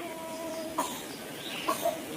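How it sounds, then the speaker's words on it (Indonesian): A chicken among farm animals gives a few short, separate clucks over steady background noise, moderately close and fairly quiet. "Wow, ada ayam."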